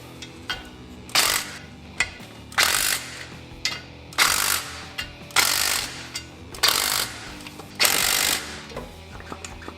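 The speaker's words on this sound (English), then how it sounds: "go ahead and hit them with a nut driver" A nut driver snugs down bolts while a Suzuki Samurai clutch is being replaced, giving about seven loud, sharp ratcheting bursts in an uneven rhythm, close by and with no talking.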